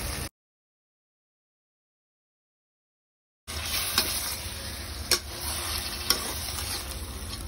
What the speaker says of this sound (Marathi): त्यामध्ये आपण चिकन घालायचं आणि व्यवस्थित फ्राय करून घ्यायचं